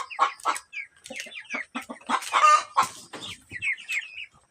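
Several heritage free-range chickens clucking close by, a run of short, sharp clucks and squawks with brief gaps, some louder calls overlapping.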